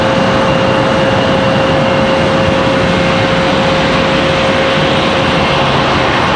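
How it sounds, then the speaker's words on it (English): An American Airlines A321 jet arriving from Charlotte at Raleigh-Durham International, a steady broad engine roar with a sustained tonal whine, continuous and fairly loud throughout with no talk. "Here comes American from Charlotte."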